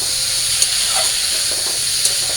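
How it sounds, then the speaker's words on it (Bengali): Tomatoes tipped into a hot pan of fried-down spice paste give a steady, close hiss and sizzle that runs evenly throughout, with a couple of brief sharper crackles. "আমার মশলাটা কষা হয়ে গেছে আমি টমেটো দিয়ে দিচ্ছি"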